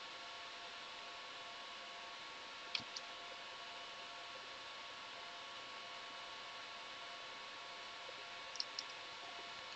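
Two faint, brief computer mouse clicks, one near the start and one near the end, while a CentOS 7 software installation is run, set against steady fan hum and background noise.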